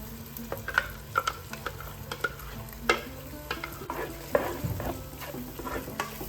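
Ground coconut masala paste with coriander and chilli powder fries in a pan for fish curry, stirred with repeated spatula scrapes and knocks over a soft, steady sizzle.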